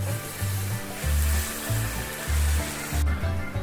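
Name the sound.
liquid sizzling on hot metal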